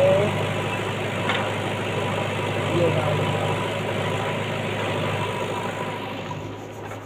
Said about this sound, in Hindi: खोद रही है ट्रैक्टर और जेसीबी